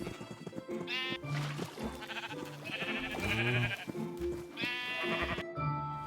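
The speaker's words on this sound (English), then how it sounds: "Then it was only fair that I let the sheep out too." Several sheep in a video game bleat one after another, overlapping wavering cries against a busy background, fairly quiet overall.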